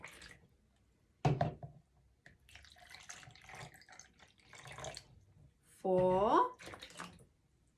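Water is poured back out of a measuring container in two short splashing bursts, the second with a rising gurgle as it fills, between stretches of nearby talking.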